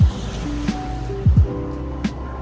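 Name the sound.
ocean waves on a beach near Seoraksan, Korea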